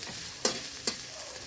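Fish curry with herbs fries in a pan with a steady sizzling hiss, punctuated by two sharp scraping stirs.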